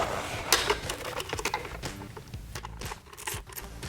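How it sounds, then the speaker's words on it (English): Mechanical clicks and metallic ratcheting while bolts are tightened down on an Elite-1 fender eliminator for a 2009-2014 Yamaha YZF R1, with busy clattering taps close by and no talk. "just lock these two bolted connections down"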